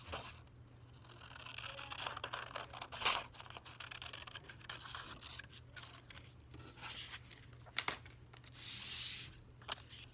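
Scissors cutting a curved paper bird wing shape: faint, close snips and crisp paper rasps come in irregular bursts over a quiet room background.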